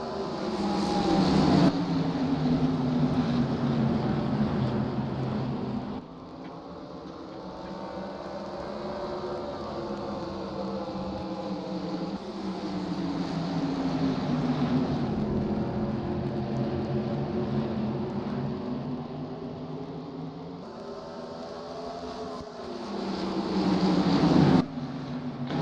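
Modified Tour race cars roar around the track at Thompson just after the green flag, a loud, continuous engine drone that swells and fades in waves as the pack passes, heard from trackside without talking.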